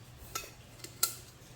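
Pieces of a camping cookware set, a teapot, a skillet and a saucepan with folding handles, clink lightly together in a few faint metallic taps.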